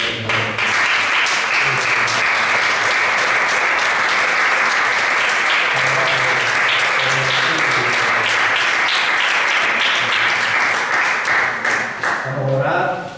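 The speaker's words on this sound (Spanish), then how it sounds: "Dame un fuerte aplauso." A congregation at a church service breaks into loud, steady applause that carries on for about twelve seconds, with a few voices and cheers mixed in before it tapers off.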